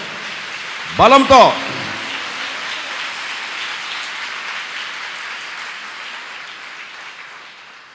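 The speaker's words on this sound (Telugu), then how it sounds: "చప్పట్లు కొట్టండి అందరు గట్టిగా, శక్తితో," A congregation at a Sunday church service claps loudly and hard, a broad wash of applause that follows a short spoken phrase from the pastor and slowly fades over several seconds.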